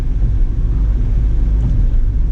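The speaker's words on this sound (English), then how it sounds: "now we're seeing a few cars pass on by" Cars pass on a rural road, a continuous low rumble of tyres and engines heard from inside a moving vehicle on the M6 between Trebinje and Dračevo in Bosnia and Herzegovina, steady and loud with no talk.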